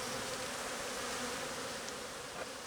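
Honey bees buzz densely and continuously around an open hive during an inspection, a steady close swarm drone with no talking.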